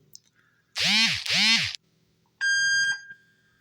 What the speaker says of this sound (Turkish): Şimdi bip sesi geldi. Bu resetlendiği anlamına geliyor.